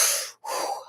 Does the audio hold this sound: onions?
no